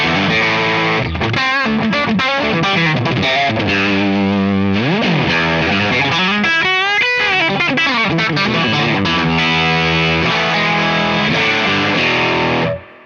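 Electric guitar played through a Crazy Tube Circuits Super Conductor boost pedal turned up, loud, crisp and driven chords and note runs sustained throughout before cutting off at the end.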